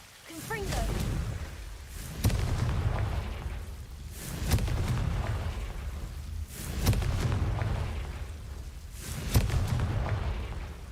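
Repeated Confringo fire-spell blasts in the video game Hogwarts Legacy, several booming bursts spaced a couple of seconds apart over a rumbling game soundtrack, with a voice talking intermittently.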